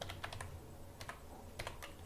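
Keys on a computer keyboard clatter in a few quick bursts while text is entered in Microsoft Word, ending in firmer keystrokes like an enter press; close and fairly quiet with no talking.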